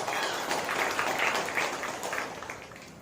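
Sustained applause from a crowd at a Hindu temple homam ceremony, a dense wash of clapping that holds steady then begins to taper off toward the end.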